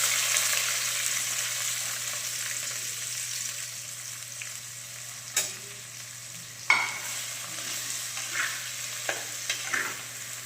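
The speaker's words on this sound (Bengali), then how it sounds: "এখানে গরম করে ঘিয়ের উপর আমি দিয়ে দিলাম এই যে কুচানো পেঁয়াজ" Chopped onion sizzling steadily in hot ghee in a pan, a continuous close frying hiss with a few clinks and scrapes of a stirring spoon partway through.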